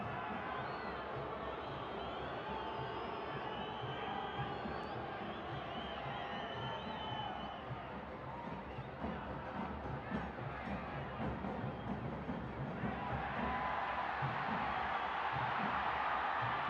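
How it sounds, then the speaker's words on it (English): Stadium crowd at a Concacaf Central American Cup club football match between Real Estelí and CAI, a continuous distant roar that swells and grows brighter toward the end as an attack builds. "Roar of the crowd as another attack seemed to be on."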